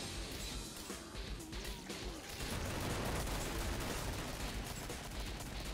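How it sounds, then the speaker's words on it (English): Heavy sustained gunfire from a video game tournament match, dense overlapping shots crackling continuously throughout, loud and close, with no voices heard. "that's a lot of ammo they're burning up there"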